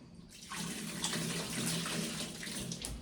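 Ice-cold tap water runs steadily as dishes are washed in a home kitchen, a continuous close splash and hiss that swells after a brief quiet start, with no voices.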